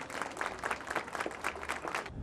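A crowd applauds steadily at a memorial ceremony as white balloons are released, a dense patter of many hands clapping at moderate distance, continuing throughout without voices.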